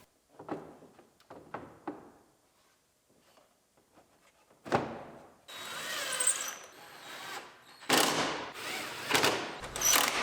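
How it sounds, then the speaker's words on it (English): A power tool bolts bumper brackets onto a C7 Corvette under repair. Several short mechanical bursts and clicks are followed by louder, sustained whirring runs, each stopping and restarting at close range. "Bolt our bumper brackets on."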